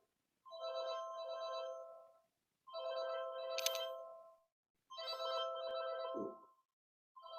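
A telephone rings indoors in a quiet, nearly empty house during a poetry reading: three long ringtone bursts with short pauses between them, clear and moderately loud, and then a fourth burst starts.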